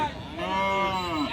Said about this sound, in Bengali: এটা আসলে নেপালি গির বাচ্চা